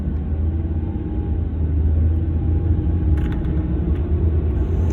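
A car on a driving-test route in Kutaisi, Georgia, a loud, steady low engine rumble and road noise from inside the cabin, with a faint rise in tone partway through.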